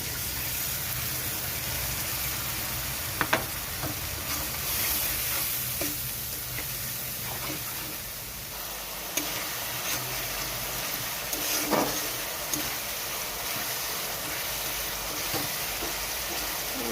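Masala spice paste with tomato frying and being stirred in a pan while cooking a rohu fish curry with pointed gourd and potato, a steady close sizzle with scattered spoon scrapes and clicks throughout, no talking.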